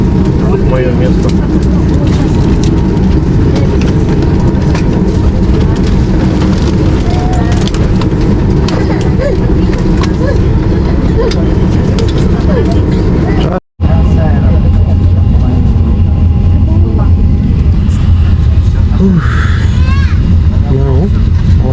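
Airplane cabin noise on a long passenger flight: a loud, steady broadband engine and air roar that fills the whole clip, broken by one brief cut before the drone resumes.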